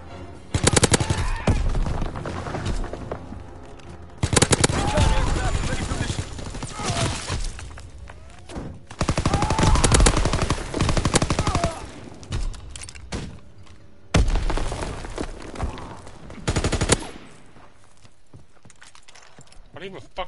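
Light machine gun fire in Call of Duty: loud sustained bursts of automatic gunfire recur several times across the stretch, separated by quieter gaps with game ambience and players talking.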